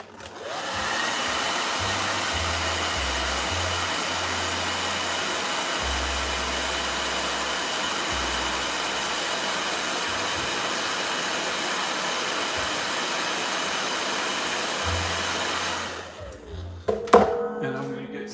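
A hair dryer blows steadily up close for about fifteen seconds while drying freshly applied red gouache paint, then cuts off, followed by brief handling noises.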